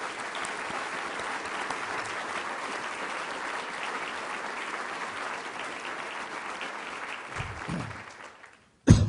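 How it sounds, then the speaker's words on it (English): Steady applause from an audience at a State of the City event fills the room for about eight seconds, dense clapping at moderate level that fades out before a brief thump at the end. "let's give a moment to applaud this his job."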